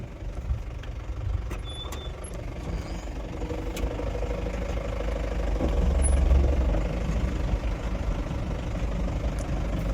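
A Mahindra Bolero pickup truck engine while driving on a road, a steady low rumbling drone heard from inside the cab, swelling slightly midway, with no talking.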